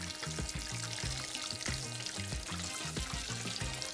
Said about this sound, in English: while I'm frying off the Brie